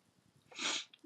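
A single short sneeze bursts out after a few quiet breaths, close to the microphone.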